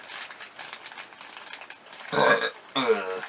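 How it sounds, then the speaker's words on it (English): Two loud, close, throaty burps from a person at a tabletop board game session, coming after a stretch of quiet rustling and clicking. "I'm gonna burp."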